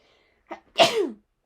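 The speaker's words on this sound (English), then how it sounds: "I feel like I have to sneeze." A single sharp sneeze with a short intake of breath just before it, close and loud, in otherwise quiet surroundings.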